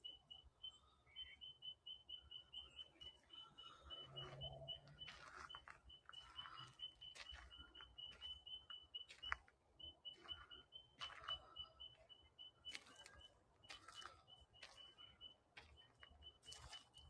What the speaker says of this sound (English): I stop to listen to one of these birds in the forest.